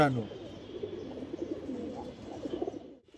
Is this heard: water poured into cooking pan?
no